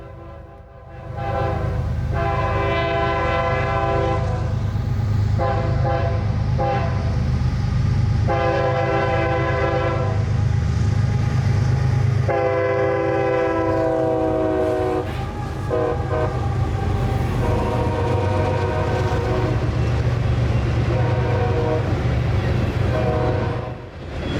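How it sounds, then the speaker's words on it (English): A loaded phosphate freight train led by three GE GEVO locomotives rolls past, its horn sounding in repeated long blasts over a loud continuous rumble of wheels and engines, close by throughout. "The last northbound will be loaded phosphate train B225 from down in Mulberry, Florida up to Cicero, Illinois with 3 GEVOs on the head end"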